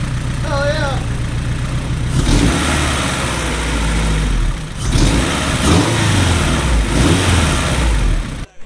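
A Honda CRX with a freshly assembled B20 VTEC engine runs close by, rising and falling through several revs over a steady idle, with voices talking over the engine.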